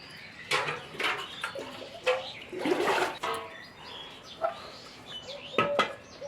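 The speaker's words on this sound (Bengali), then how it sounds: "কুয়ো থেকে জল তুলে পা ধোয়া লাগবে" Feet being washed outdoors with water drawn up from a well: irregular splashes and pours in uneven bursts, with faint birdsong in the background and no voices.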